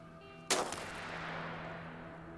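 A single loud gunshot from an enemy firing at the player in the war survival game This War of Mine cracks out sharply, then a long reverberant tail decays slowly over a steady low background hum.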